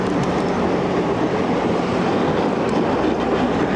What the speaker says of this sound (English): There's a locomotive for our train.